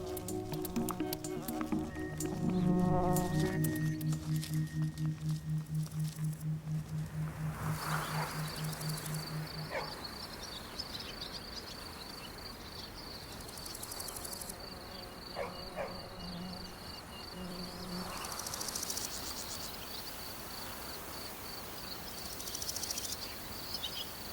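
Bees forage for flower pollen in Burgundy bocage countryside, giving a steady buzzing drone of insects in flight that stays close and clear for the opening seconds, then a fainter outdoor hum with scattered buzzes.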